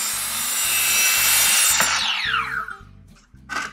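Rough sawn one-inch thick walnut boards being cut to length with a power saw in a woodworking shop, a loud steady cutting whine over a rhythmic low hum that trails off and stops near the end.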